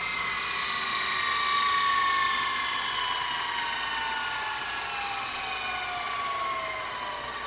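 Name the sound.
Toshiba W804 S-VHS VCR tape winding fast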